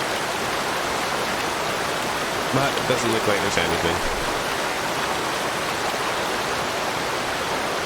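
Steady broadband rush of a waterfall in the forest game Among Trees, filling the clip evenly and loudly throughout, with a person speaking briefly over it partway through.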